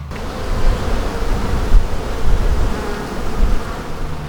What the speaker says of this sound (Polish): Teraz sypię do skrzynki pszczoły